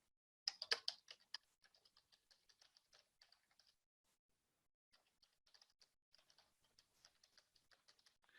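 Someone types on a computer keyboard with one hand, a quick burst of loud close key clicks followed by a pause, then a steadier run of fainter, evenly spaced taps.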